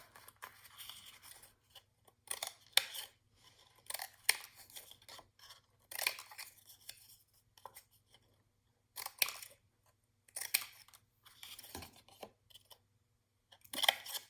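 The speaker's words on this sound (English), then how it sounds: "listen to me cutting paper cookies" Scissors snipping through paper in short bursts, quiet and close, with brief pauses between cuts.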